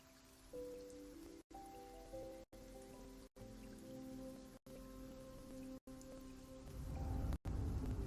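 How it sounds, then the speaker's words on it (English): Rain patters steadily on a surface in a game setting, in a dense continuous hiss with a low rumble swelling near the end, broken by brief silent gaps. "Raining indoors."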